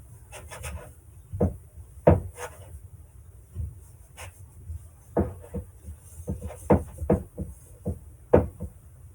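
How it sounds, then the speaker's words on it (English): Cinnamon roll dough is rubbed and pressed against the side of a bowl, producing irregular close thumps and scuffing rubs in a loose rhythm, with no talking. "be a little aggressive with rubbing your dough on the side of the bowl just to pick up any bits that might be trying to stick"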